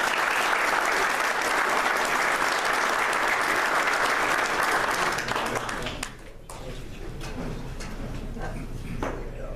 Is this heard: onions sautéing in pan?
no